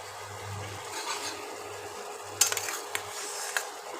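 Paneer kofta balls dropped into a pan of simmering curry, giving a soft sizzle and stirring rasp with a few sharp clinks of a utensil against the pan partway through, close up and without talk.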